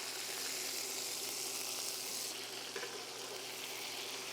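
Beef patties for a diner-style patty melt fry in a pan after flipping, giving a soft, steady sizzle that runs evenly throughout, fairly quiet, with no voices.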